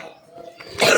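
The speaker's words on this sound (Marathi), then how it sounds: "खोकला लागला का?" A single close cough at home, a short harsh burst near the end after a quieter lead-in.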